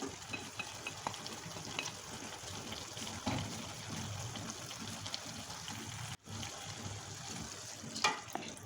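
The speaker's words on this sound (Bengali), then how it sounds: "মাছ দিয়ে দিচ্ছি অল্প করে ঝোলের পানি।" Thin gravy water is poured into a pan of cooking medicinal greens and magur catfish, giving a soft trickle and a steady sizzle with stirring scrapes, close and fairly quiet.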